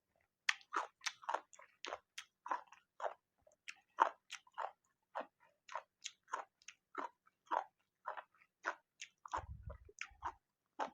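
Close, crisp biting and crunchy chewing of Thai green papaya salad eaten with rice noodles, coming in steady bursts over about eleven seconds, with a brief low rumble near the end and no talking.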